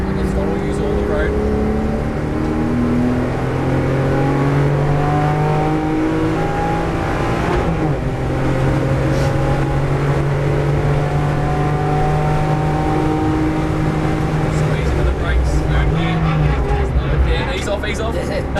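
A race car at full throttle on a circuit during a track-school session, its engine note climbing steadily through the gears in a loud, continuous drone, with an instructor talking over it.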